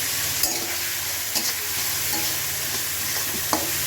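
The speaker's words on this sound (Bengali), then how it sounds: "মাছটা দিয়ে দিলাম, মাছটা ভাজি হোক" Pangas fish sizzles steadily in a pan of hot oil, a dense close hiss with a few soft stirring taps, and no voices heard.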